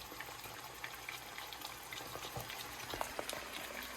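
Moose meat frying in a pan heated red hot, giving a steady, quiet sizzle with scattered small crackles and pops throughout, no voices.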